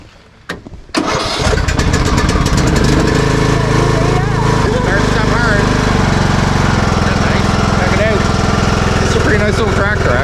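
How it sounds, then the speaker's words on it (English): A small riding lawn tractor engine cranks, catches and settles into a loud, steady running drone close by, with a voice briefly heard over it. "Pretty nice little tractor, actually."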